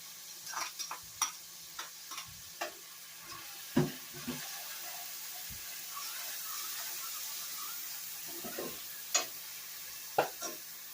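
Garlic and onions sizzle softly in a pan with a steady low frying hiss, punctuated by scattered clicks and taps of a spoon stirring, no talking.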